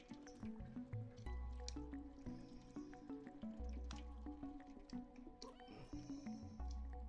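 A cat in the video game Stray drinks water, giving quiet, repeated wet lapping and dripping sounds in a steady rhythm at low volume.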